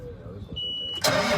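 An old tractor engine cranks with a whirring starter and catches with a sudden loud rumble near the end, close by, while a voice is heard in the background.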